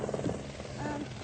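Helicopter flying in over Corfu for a treasure-hunt game show, a steady rotor rumble briefly heard with people talking over it.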